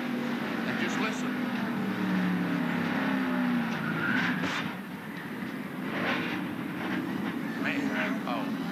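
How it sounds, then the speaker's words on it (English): Loud, continuous roar of NASCAR race cars at the 1997 Primestar 50 during a violent crash, with engine and crowd noise throughout and a dip partway through, plus several sharp bursts suggesting impacts and scraping; a commentator speaks over it. "Noisy and a very violent wreck."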